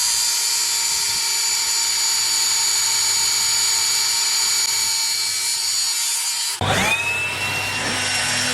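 A hand tool smooths and deburrs a beveled edge on an NSX brake part, giving a steady, close whirring grind that runs alone before a sharper, brighter burst of contact near the end.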